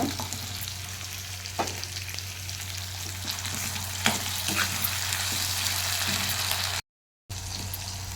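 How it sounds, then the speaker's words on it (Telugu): Chopped tomatoes fry in a pan with a steady, moderate sizzle, broken by a few sharp scrapes and clicks of stirring and a brief dropout, with no talking. "ఇలా వేసాం కదా టమాటాలు యాడ్ చేసి ఇలా పచ్చివాసన ఉండకూడదండి టమాటా"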